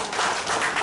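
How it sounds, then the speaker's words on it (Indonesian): An indoor audience claps for a speaker at a business success-story event, a brief continuous wash of applause at moderate volume. "Tepukan untuk beliau, terima kasih."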